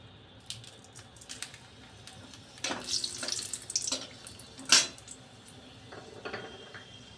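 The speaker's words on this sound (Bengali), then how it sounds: "তো তেলটা গরম হয়ে গেছে, এবারে আমি শুকনো লঙ্কা দেবো গোটা।" Whole dried red chillies hit hot oil in a pan in a Bengali vegetarian dish, giving quiet crackles followed by sharp, bright bursts of sizzling that flare up and then fade.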